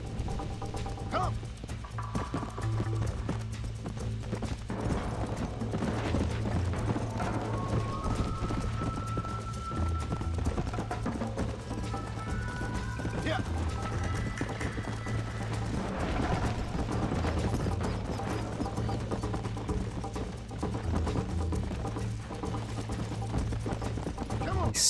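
Horse galloping in Red Dead Redemption on PC, a steady clip-clop of hooves running continuously throughout, with game music and ambient sound underneath and a voice speaking at times.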